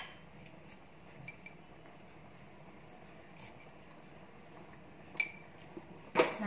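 A spoon stirs green gram gravy in a cooking pot as it comes to a boil, with faint, sparse metallic clinks against the pot over a quiet kitchen background and a couple of sharper knocks near the end.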